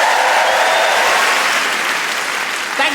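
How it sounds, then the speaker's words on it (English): A live comedy audience bursts into loud, sustained applause, a dense wash of clapping that holds steady for the whole stretch with faint crowd murmur beneath. "Round of applause for Leon."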